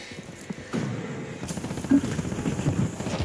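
A recon drone whirs in the Warzone video game with a buzzing, helicopter-like drone, joined by scattered gunfire and sharp impacts in a short busy stretch.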